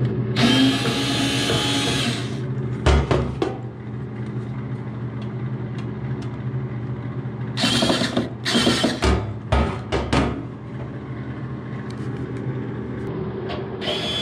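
A power drill backs out screws from a bathroom medicine cabinet, loud whirring bursts at the start and again in the middle, separated by quieter handling noises.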